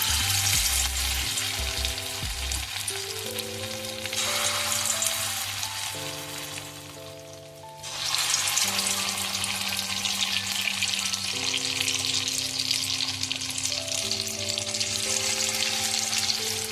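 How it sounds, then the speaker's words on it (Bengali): Shrimp-head and lentil pakoras dropped into a kadai of hot oil, giving a steady, loud, close frying sizzle that fills the whole stretch, briefly easing before surging again, with music playing over it. "এখন আমি কড়াই তেল দিয়ে দিয়েছি, অলরেডি গরম হয়ে গেছে। ছোট ছোট করে এবার আমি ছেড়ে দেবো একটা একটা করে।"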